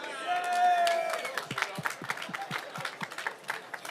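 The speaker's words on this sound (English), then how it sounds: "can we give Double Superlative a round of applause?" A racecourse crowd applauds the winning horse Double Superlative, a thin spread of claps from on-course spectators heard over a loudspeaker voice and a long sustained tone, with sharper separate claps picking up in the second half.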